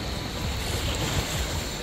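Strong surf crashing and rushing on a Bohol beach near dead mangrove driftwood, a continuous loud wash of waves mixed with gusty wind buffeting the microphone.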